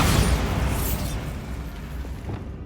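A Bombarda spell explosion in Hogwarts Legacy, a loud broad burst that opens the clip and then rumbles and decays steadily for a couple of seconds.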